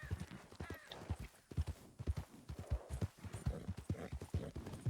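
Horse hooves clip-clop in a steady walking rhythm in Red Dead Redemption 2, close and clear, with a brief whinny-like rising tone near the start.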